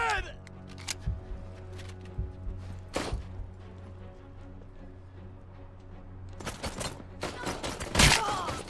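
Gunfire in the RoboCop arcade video game: bursts of rapid shots and sharp blasts at the start, near three seconds and again thickly toward the end, over a low game soundtrack hum.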